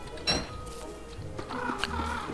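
A turkey in the video game Don't Starve gives short clucking gobbles, a few close, moderately loud calls over a low game background.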